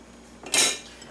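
A single short metallic clink as milk and melted butter go into a KitchenAid mixer bowl fitted with a whisk attachment, alone in a quiet kitchen.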